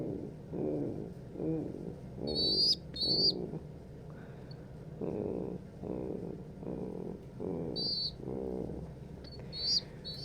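A person imitates an adult pigeon's soft cooing greeting call to its squeakers, repeated low murmuring coos in short bursts, with a few bright high chirps from the young birds between them.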